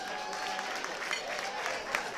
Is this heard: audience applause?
yes